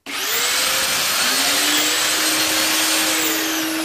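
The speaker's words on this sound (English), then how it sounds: "Place the DD40 on the work, slide it across against the stop, and then drill." A Mafell DD40P dowel drill bores into a wooden workpiece: its motor starts abruptly and holds a loud, steady, high whine for about four seconds, close up, with no talking.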